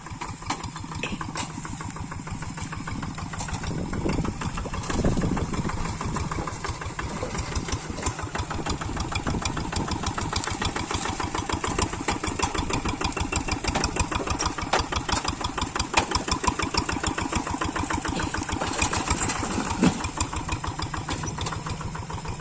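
An engine runs steadily with a fast, even chugging pulse, close and continuous throughout, with no voices over it.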